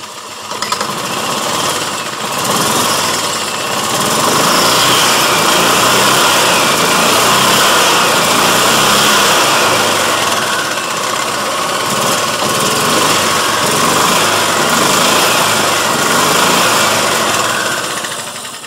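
A 1996 Club Car DS gas golf cart engine, held in neutral, revs up with the throttle into a loud, buzzy, high-pitched roar that holds steady for many seconds at close range, with no talk.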